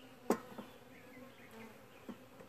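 Honeybees around a hive box give a faint, brief buzz, with one sharper close fly-by and softer hums drifting past.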